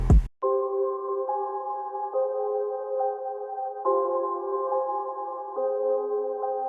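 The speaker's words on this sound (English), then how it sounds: "So this is my third melody. It was like a sound in Nexus." Synth melody from a Nexus preset in a trap beat: a bright, bell-like chord line changes every second or so in a steady pattern, clean and sustained, alone without talk after a brief noise at the start.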